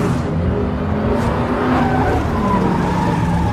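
A car chase from the 2018 heist film Den of Thieves roars with loud revving engines, tyre squeal and passing traffic in a dense, continuous rush.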